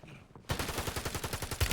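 Rapid bursts of video game gunfire, a fast run of loud, close shots firing in quick succession after a brief quiet start.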